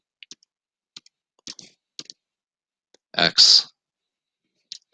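Equations are tapped into a calculator keypad as sparse, isolated clicks spread across several seconds, close and distinct, with one short spoken word in the middle.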